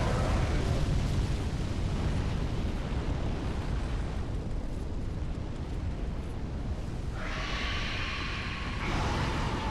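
A dragon breathing fire in the video game Dark Souls 3, a loud, sustained roaring rush of flame that fills the whole stretch, with a brighter hissing burst near the end.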